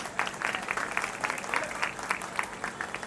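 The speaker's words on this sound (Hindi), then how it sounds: "जोर से ताली बजनी चाहिए आपके खिलाफ" Crowd applause at a Ramleela festival stage event honouring a youth group, rhythmic clapping in unison with regular beats, moderately loud and sustained for a few seconds without speech.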